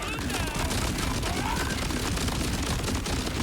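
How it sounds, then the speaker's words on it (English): A rapid-fire Wombo Combo legendary rocket gun fired at a practice dummy in Borderlands 4, a dense, unbroken stream of shots with a continuous fusillade texture, loud and close, under faint game effects. "No recoil on a gun shooting this fast."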